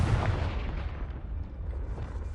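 A Confringo blasting spell goes off in the Hogwarts Legacy video game as one loud, deep explosive boom that rumbles and slowly fades, with no voices over it.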